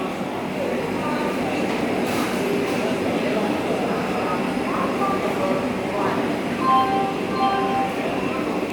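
A Vande Bharat Express train at Vijayawada railway station gives a steady, loud rumble with scattered metallic clinks, and background voices murmur throughout.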